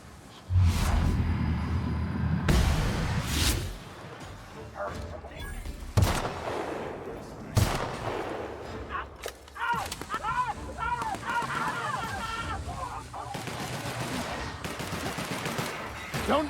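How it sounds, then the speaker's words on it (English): Gunfire from The Outer Worlds video game, a combat scene: repeated loud shots and rapid bursts crack out across the passage, spaced with brief pauses and mixed with other game noises. "Opening fire!"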